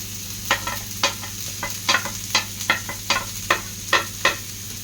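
Onions, shallots and green chillies sizzle in a hot pan for a Thrissur-style beef dish, with a steady fry hiss under about a dozen sharp, evenly spaced spoon scrapes and knocks of stirring, close and moderately loud, no talk.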